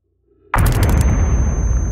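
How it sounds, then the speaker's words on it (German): A sudden loud explosion in the space exploration video game Outer Wilds, bursting in abruptly after near silence and then sustaining a heavy rumbling roar to the end. "Ja, es explodiert, schön."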